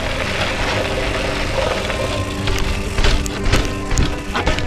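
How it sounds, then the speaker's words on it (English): Gravel bike rolling down a flight of stairs, a steady rumble of tyres and rattling frame with several sharp jolts and clatters toward the end, close and fairly loud. "do I go down the stairs on the gravel bike?"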